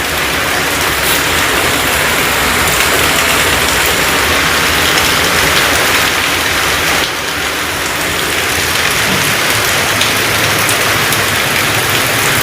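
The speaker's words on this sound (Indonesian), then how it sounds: "Hujannya banyak guys." Heavy rain pours down steadily, a loud, dense wash of drops on surfaces that continues unbroken throughout, with no voices.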